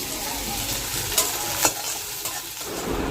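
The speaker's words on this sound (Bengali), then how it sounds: "আর দিয়েছি 5 ফোড়ন দিয়ে একটু পেঁয়াজটা হালকা ভাজা ভাজা করব" Onion and green chilies with bay leaf and five-spice sizzle in hot oil, a steady close crackle broken by a few sharp stirring scrapes.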